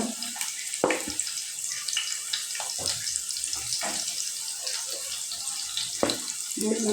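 Coriander leaves being washed in water in a kitchen, soft splashing and trickling with occasional clunks and sloshes, fairly quiet and close with no talk.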